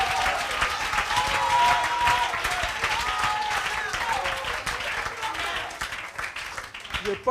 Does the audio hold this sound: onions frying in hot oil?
no